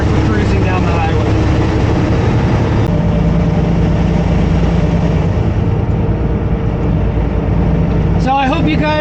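A semi truck with an 18-speed manual transmission cruising down the highway in its highest gear, a loud, steady low engine drone close by, with a person talking over it.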